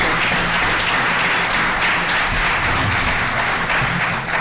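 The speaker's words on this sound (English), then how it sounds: "one more round of applause for Houston Barrow, Michael Lee, and Jerry C" Audience at a candidates forum applauding, a loud, dense, steady clapping that fills the room without pause, no voices standing out above it.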